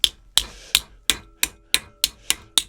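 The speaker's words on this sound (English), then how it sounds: "bang the copper with a hammer until it goes nice and flat." A hammer strikes scrap copper water pipe against a piece of steel held in a vise, eight sharp metallic bangs at a steady, slightly quickening rhythm, close and loud.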